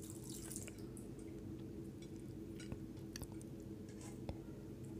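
Water is poured from a bowl into tomato dal cooking in a pot, a soft, steady splashing and dripping with faint wet squishes. The sound is close and fairly quiet, with no talk over it.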